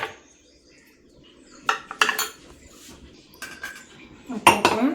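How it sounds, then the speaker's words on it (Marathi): A spoon mixing chopped onion, capsicum, carrot, tomato and coriander into moong batter in a bowl, a few wet, clinking stirs in short bursts, close and fairly quiet with gaps between. "कोथिंबीर आणि आता चांगलं मिक्स करून घेऊ।"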